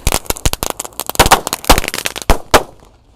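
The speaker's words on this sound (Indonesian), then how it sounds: "Selanjutnya ini ada mercon telur dino tor. Kita nyalakan 1 pak sekaligus." A pack of dino-egg firecrackers bursting in a rapid, loud, irregular chain of sharp bangs, ending with a final pop and a brief tail.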